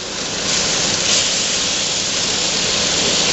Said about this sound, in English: So when I pour it in, it's pretty much boiling.